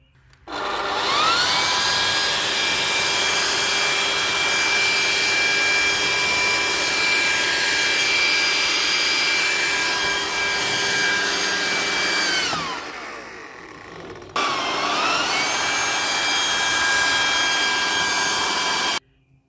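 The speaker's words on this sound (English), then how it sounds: "That's where a leaf blower comes in handy." A leaf blower runs steadily and loud in a yard, its whine holding for about twelve seconds, cutting out briefly, then starting up again and running to the end.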